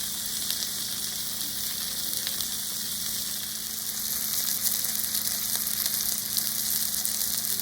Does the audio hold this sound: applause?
no